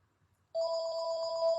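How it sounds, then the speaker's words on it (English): A telephone rings with a steady electronic bell tone that starts abruptly and continues loud and sustained, sounding on its own in a quiet indoor room where toys are being played with. "Ah, there goes my phone."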